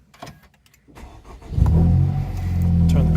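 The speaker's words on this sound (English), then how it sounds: "turn the car on." A Honda Civic Type R FK8 engine cranks and catches after a quiet moment, then settles into a loud, steady idle close by.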